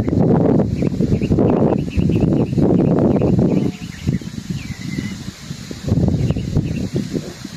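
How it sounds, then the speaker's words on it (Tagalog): Outdoor wind gusts buffet the microphone in heavy, rumbling bursts, strongest in the first half and easing into weaker, uneven puffs. "Yan ang hangin"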